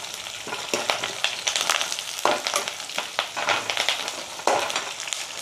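Curry leaves sizzle and crackle in hot oil for dhaba-style jeera rice, a close, continuous frying hiss with bursts of popping and stirring scrapes throughout.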